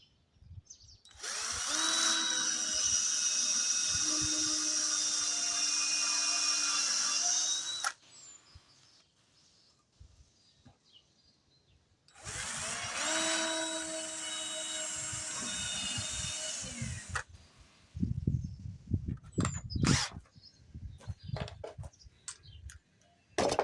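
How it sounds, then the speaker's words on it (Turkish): A power drill with a 3 mm bit boring screw holes into wooden beehive parts, two long steady whining runs of several seconds each separated by a quiet pause, followed by a few scattered knocks and handling sounds, close by with no speech. "Bu sefer vidalayacağım kısımları önce 3, 3 e, milimetre uçla deliyorum."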